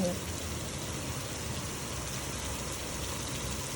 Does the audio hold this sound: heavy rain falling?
yes